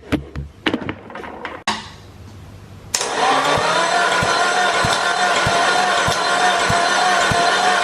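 Nissan SR20DET with VCT spinning over on the starter during a compression test: a few soft knocks and a rising whir, then from about three seconds a loud, steady churning drone with regular low thumps, close by, no talk.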